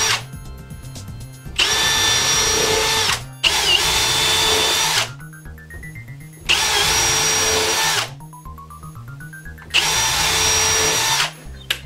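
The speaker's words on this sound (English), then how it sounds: "And then it's just a matter of putting our screws into the blocking." A power drill drives screws into exposed wood blocking for a grab bar, four loud bursts of whirring separated by pauses, the motor pitch climbing as each screw seats, close and without talking.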